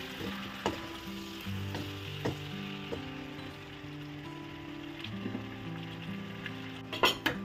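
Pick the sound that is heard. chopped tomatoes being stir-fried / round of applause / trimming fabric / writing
chopped tomatoes being stir-fried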